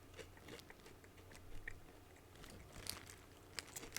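Close, faint crunching and chewing of Guatemalan lime-flavored corn chips shaped like Fritos, with small repeated bites and crackles over several seconds and no talk.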